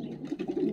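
Pigeons kept in a breeding loft for racing and breeding coo in a low, steady murmur, several soft overlapping coos close by with no talk over them.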